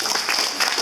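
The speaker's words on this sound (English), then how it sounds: "Let's give a big clap." Brief clapping from an audience at a panel discussion on the food system, a short burst of applause with no speech over it.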